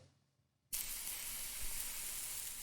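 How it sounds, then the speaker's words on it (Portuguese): A cooking app plays a sound effect of meat frying: after a quiet moment, a steady crackling sizzle starts abruptly and keeps going, fairly soft overall. "ele faz barulhinho de carne fritando"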